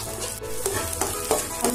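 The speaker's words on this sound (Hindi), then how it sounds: "हल्दी की बुनाई हमें बहुत अच्छे तरीके से करनी होगी" Turmeric roasting in desi ghee for haldi barfi, stirred steadily: a constant frying sizzle with a few sharper scrapes and clinks of the spoon against the pan, close and fairly loud, no voices.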